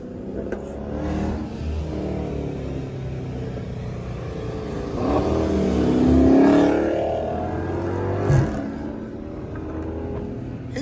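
A Dodge Charger SRT 392 V8 rumbles and revs up near the listener, swelling to a louder surge midway, with one sharp exhaust crack near the end.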